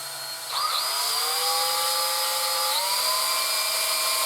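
A high-RPM rotary tool spins a small drill bit at around 20,000 RPM, throwing friction sparks. A loud, close, sustained whine rises in pitch as it spins up, then settles at a steady high drone.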